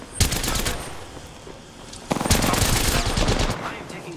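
Rapid automatic gunfire in an Apex Legends ranked match, two sustained bursts of close, loud rattling shots split by a brief lull near the middle.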